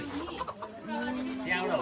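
A rooster gives short clucks nearby at an outdoor puja gathering, mixed with background voices and general noise.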